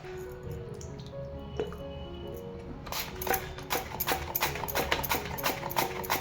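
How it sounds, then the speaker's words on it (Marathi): Peeled potatoes being sliced into thin wafers straight into a bowl of water, a run of quick crisp cuts and wet drips that speeds up into a steady rapid rhythm, close and moderately loud with no talking. "अगोदर जर आपण साल काढली तर आपले पटपट असे वेपर्स पडतात."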